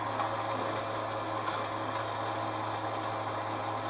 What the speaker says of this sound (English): This fan is working